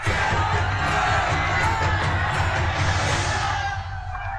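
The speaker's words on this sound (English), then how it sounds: "There's a huge crowd outside." A large crowd outside raises a continuous roar of shouting and cheering, steady and loud throughout with no clear individual voices standing out.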